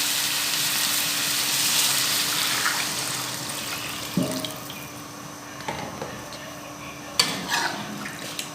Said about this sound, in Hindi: अब मैं डालूँगी इसके अंदर पानी।